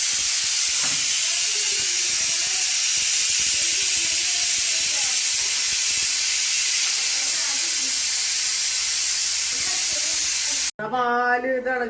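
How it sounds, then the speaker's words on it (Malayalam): Milk boiling over on a home kitchen stove gives a loud, continuous steamy hiss and sputtering sizzle for about eleven seconds, cut off abruptly as a voice begins speaking. "പാല് തിളച്ചു പോയടാ."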